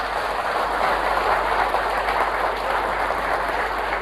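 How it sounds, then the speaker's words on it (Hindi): Steady, dense clapping from a crowd fills the space at an even level throughout, with a low constant hum underneath. "तालियां होनी चाहिए"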